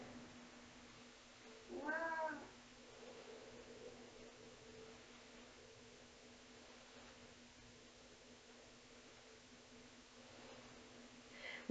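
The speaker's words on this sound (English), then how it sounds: "We have a chai cat, and there's a Fritz behind me too." Indoors during a gentle floor yoga session, a cat gives one short, faint meow early on over a quiet room with a low steady hum, then stays mostly silent.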